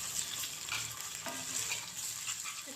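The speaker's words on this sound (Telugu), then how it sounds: "నేనైతే ఒక స్పూన్ అల్లం పేస్ట్ వేసుకుంటున్నాను" Ginger paste sizzles and fries in a pan for a spinach chicken curry, with steady crackling and occasional stirring scrapes, close and moderately quiet.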